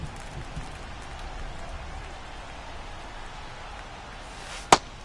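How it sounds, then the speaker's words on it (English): Steady rain patters in a baseball video game during a Phillies franchise-mode game against the Pirates, a continuous even hiss with one sharp crack near the end. "It feels like we might be headed towards a rain delay if the weather doesn't ease up, Chris."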